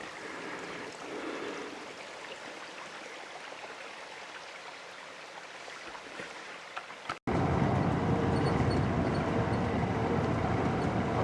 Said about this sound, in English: Look at all the water.